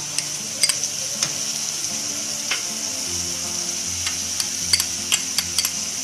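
Garlic paste sizzles and fries with lightly browned onions in a pan, a steady hiss broken by scattered clinks and scrapes of stirring, with no talk.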